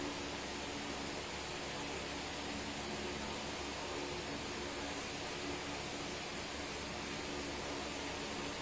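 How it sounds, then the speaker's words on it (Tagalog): A steady, loud blowing whoosh of a hair dryer drying paint on a Marvel Select Juggernaut action figure runs continuously without a break, with a faint hum underneath. "ginagamit ko rin yung hair dryer para mas mapabilis yung drying time"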